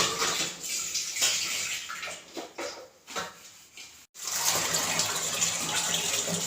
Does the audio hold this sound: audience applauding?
no